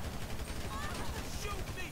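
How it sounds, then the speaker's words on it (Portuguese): Bursts of gunfire in the video game GTA V, rapid cracking shots over a busy game soundscape, with a player speaking excitedly at times. "Ele tem uma arma, sujou! Toma tiro, rapaz. Vai tomar tiro."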